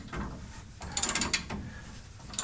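A wrench ratchets in quick bursts of clicks while a bolt is loosened on a Camaro's front spring, close and fairly quiet, with clanks and a muffled thump between the ratcheting.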